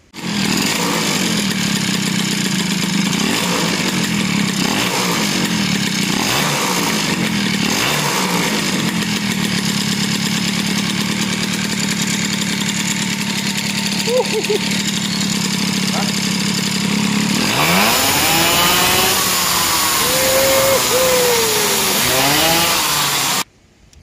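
A 70cc Motobécane 40V moped engine runs with a rough, buzzing idle, then revs up sharply near the end, loud and close, before cutting off abruptly.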